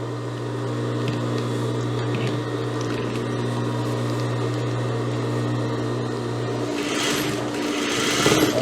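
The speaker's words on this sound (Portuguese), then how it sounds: "Agora eu vou virar e passar um acabamento de pesponto rente" A sewing machine runs steadily, topstitching close to the edge of a jumpsuit neckline lining, holding one unbroken motor whir for several seconds before it slows and stops, leaving some light handling noise.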